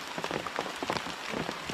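Steady rain falls on nearby surfaces outdoors, a dense, continuous patter of drops that stays even throughout with no voices.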